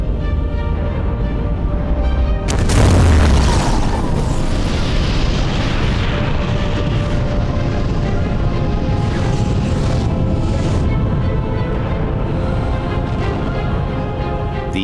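A planetary collision impact, a sudden massive boom that bursts in after a couple of seconds and then rolls on as a long, loud, rumbling roar with crackling debris, sustained and undiminished to the end.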